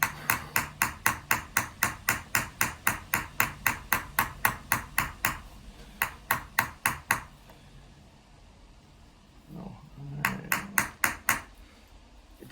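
A flat-faced hammer chases a metal vessel in a steady run of bright, ringing strikes about twice a second. After a short pause it resumes, falls quiet, and ends with a brief final burst of taps.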